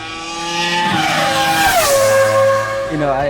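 A loud 2003 Formula One car engine roars and shifts pitch as it passes close by, with tire squeal and some voices underneath.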